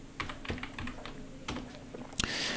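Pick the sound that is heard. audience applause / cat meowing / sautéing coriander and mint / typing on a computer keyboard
typing on a computer keyboard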